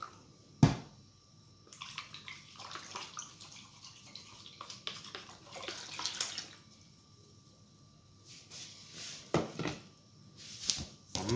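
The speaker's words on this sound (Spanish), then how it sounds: "Mezclamos, tiramos un poco de agua." Water poured into whole wheat bread dough and worked in by hand with a small wooden stick, giving soft wet splashes and squelches in a kitchen, with occasional sharper knocks.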